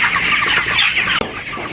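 Broiler chickens on a poultry farm with litter flooring cluck and squawk as a dense, continuous flock chorus close by, with one brief dip partway through.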